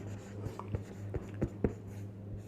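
A hand writes definitions in soft, faint scratches and light taps at an uneven pace, close by, over a quiet low hum, with no talking.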